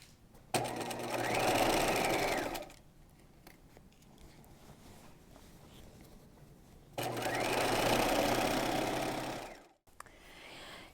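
A sewing machine joins the bodice to the skirt of an apron dress in two steady, loud runs of whirring stitching. A quieter pause with faint handling noise separates them, and a short click comes near the end.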